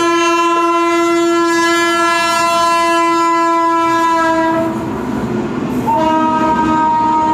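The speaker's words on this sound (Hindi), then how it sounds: "ट्रेन आ रही है" A passing train blows a loud, sustained multi-tone horn close by, the blast dipping briefly before resuming over the rumble of the rail cars.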